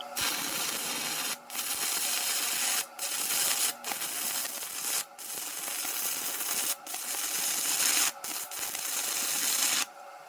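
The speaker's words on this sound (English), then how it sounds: "So here I'm actually going to try to weld two pieces of metal together." Stick welding joining two pieces of metal with an affordable welder, a loud continuous crackling, spattering arc hiss broken by several short pauses, close and without talk.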